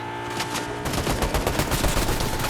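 Rapid automatic gunfire from the video game Fortnite rattles loud and close, a dense continuous burst of overlapping shots with no talking over it.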